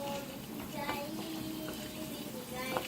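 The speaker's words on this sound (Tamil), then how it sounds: "நல்லா அதை வறுத்து விட்டுக்கலாம்." Fennel seeds, chana dal and cumin frying in sesame oil in a kadai on the stove, a faint, steady sizzle with occasional soft stirring scrapes, a voice murmuring underneath.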